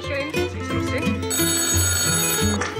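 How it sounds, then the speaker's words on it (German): A telephone rings insistently, its bright trilling bell tone carrying steadily over a background of music. "Telefon."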